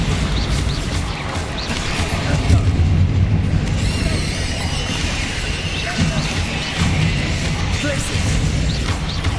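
Bombarda explosion spells in Hogwarts Legacy, with loud booming blasts and crashing debris rolling over a dense, continuous rumble of combat, with several heavy impacts spread across the stretch.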